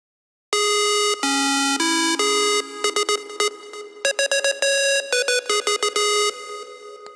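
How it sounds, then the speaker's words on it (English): A synth bass pulse oscillator plays alone, its pitch modulated by an LFO, as a bright buzzy tone stepping through notes in rapid rhythmic bursts and stutters, loud and clean with no talk. "So oscillator 1 sounds like this by itself."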